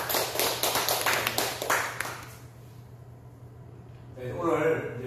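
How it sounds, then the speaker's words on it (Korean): A short round of audience applause in a lecture hall for a civil-service training class, a dense patter of claps fading out within a couple of seconds before a voice resumes. "박수 한번 주세요."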